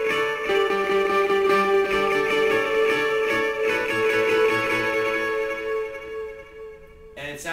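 Electric guitar strummed through a 350 ms delay feeding a quarter-note delay in series at 136 BPM, a ringing chord with echoes smearing into a shimmering wash that fades, with a short new stroke at the end.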